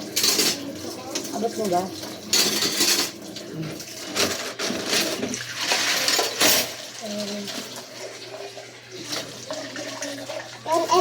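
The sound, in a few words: washing dishes and rinsing with running tap water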